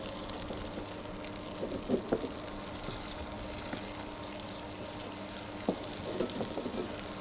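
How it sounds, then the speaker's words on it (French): Caramel of butter and sugar cooks over low heat in a pan, a continuous soft sizzle with occasional light scrapes and knocks of the stirring utensil. "Bien mélanger régulièrement."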